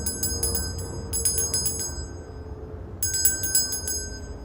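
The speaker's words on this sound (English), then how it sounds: "So, ringing a bell." A meditation bell chimes in short bright clusters of ringing strikes, two bursts close together and a third after a pause, over a low steady background hum.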